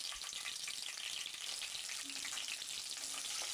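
Chopped green chillies sizzle and fry in hot oil in a kadai, a steady close crackling hiss with brief stirring sounds and no talking.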